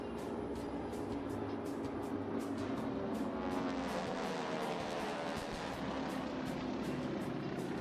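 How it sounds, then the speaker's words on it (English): The 600-horsepower engine of a Mosquito airplane revs during an airshow pass at EAA AirVenture Oshkosh 2025, a continuous faint droning hum with a steady pulsing beat, distant and unbroken by talk. "Now as the RPM increases on the 600 horsepower engine"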